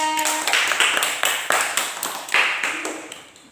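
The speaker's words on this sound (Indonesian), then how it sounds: "Tepuk tangan untuk Najwa" A classroom of primary pupils claps for a classmate, a lively run of sharp, uneven hand claps that builds quickly and then tapers off, close and fairly loud with no voices over it.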